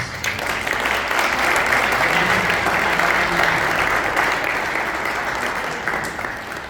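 An indoor audience at a Mexican local history talk claps in a dense, sustained round of applause that stays full and even for several seconds before starting to taper, no voices over it.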